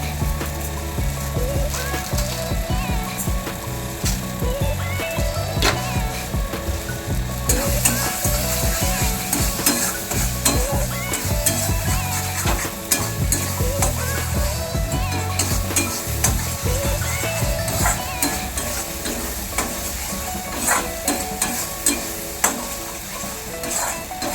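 Palak paneer masala sautés in a pan with constant loud sizzling, while a spatula scrapes and stirs in rapid, continuous rhythmic strokes close by.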